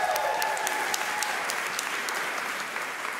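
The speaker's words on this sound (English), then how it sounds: "also another round of applause for Yasna Voices" Concert audience at a choir recital keeps up a sustained, even round of applause for the choir, a continuous wash of many hands at steady loudness.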